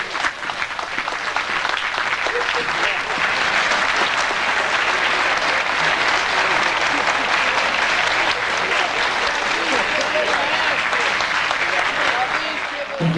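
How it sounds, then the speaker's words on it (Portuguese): A concert audience breaks into sustained, loud applause for a lieutenant who conducted the symphonic band and Adventist choir, a dense wall of clapping lasting over ten seconds at an even level. "Nossos aplausos então ao tenente Renato Maximiano da Silva"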